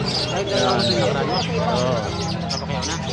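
Pigeons, chickens and other caged birds at a pet market coo and chirp amid a busy crowd, the bird calls mixed under constant nearby talking and stall noise.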